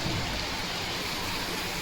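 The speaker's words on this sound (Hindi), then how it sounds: "कितनी तेज़ बारिश हो गई, बहुत तेज़ बारिश हो गई।" Heavy rain pours down in a dense, unbroken hiss, fairly faint and steady from start to finish, with no voices.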